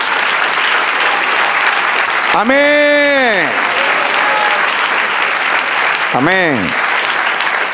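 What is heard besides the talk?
church congregation applause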